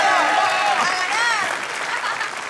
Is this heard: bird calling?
no